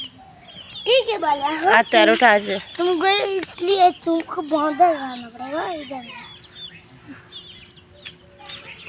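Young chickens cluck and cheep at home amid a woman's speech, their calls mixed with her voice for most of the stretch before fading into quiet room tone.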